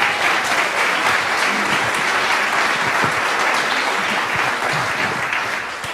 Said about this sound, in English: Let's give another round of applause for Nadia.